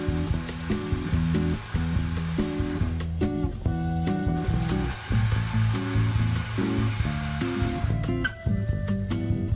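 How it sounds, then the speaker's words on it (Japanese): An electric drill fitted with a chamfer cutter deburrs the edge of a drilled hole in a shower pipe, producing a steady motor whine with shifting pitch and a faint grinding texture throughout. "電動ドリルの先端をドリルビットから面取りカッターに付け替えて穴の面取りをしていきます"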